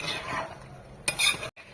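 A utensil stirs beef tripe and liver cooking in a pan, giving soft scraping and scuffing under a faint sizzle, then a brief sharper clatter of metal near the end.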